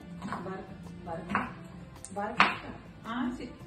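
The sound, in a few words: chopping vegetables into small pieces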